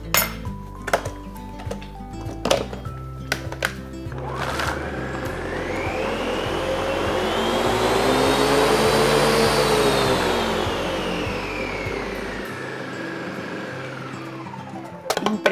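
A blender motor whirs up, its pitch rising into a loud steady roar, then winds down before stopping, with light clinks of dishes at the start.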